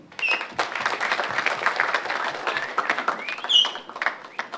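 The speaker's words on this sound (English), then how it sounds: "a big round of applause for a gentleman that we all know in this film now as AJ Mr. Ajay Devgan" An audience applauds as Ajay Devgn is introduced at the trailer launch of Action Jackson, with a dense, fairly loud burst of clapping and some cheers that continues throughout.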